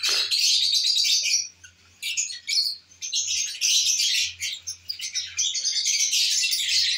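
Lovebirds in a home breeding setup chirp and squawk loudly and almost continuously at close range, with only brief pauses in the chatter.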